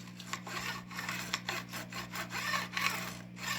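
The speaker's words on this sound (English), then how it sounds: "Don't hold the file at an angle like this where you're filing the end of the frets" Steel file rasping and snagging across sharp fret ends on a guitar neck, a steady run of short scraping strokes with a constant low hum beneath, close and moderately loud.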